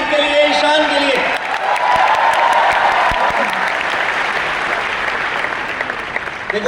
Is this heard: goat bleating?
no